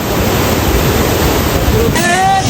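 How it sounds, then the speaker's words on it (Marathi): A loud, steady roar of rushing water fills the air from the Dodhani waterfall close by, with faint voices emerging near the end. "काय धबधबा बघू शकताय बघा"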